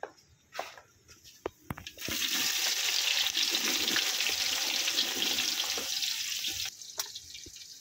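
Chopped onions hit hot oil with spices for a large beef curry, bursting into a loud, sustained sizzle after a few scattered clinks and scrapes of stirring, the hiss holding steady before easing near the end.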